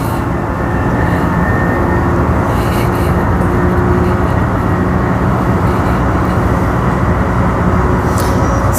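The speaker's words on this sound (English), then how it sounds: "So if they do stop this train at the new stations" A Mandurah Line passenger train runs along with a loud, steady rumble and roar that holds at the same level throughout, with no voices heard.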